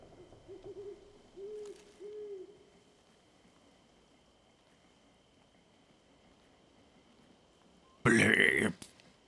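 Owl in the video game Life is Strange 2 giving three soft, low hoots over quiet ambience, followed later by a louder, brief burst of another sound.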